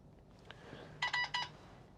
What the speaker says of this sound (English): the system beeped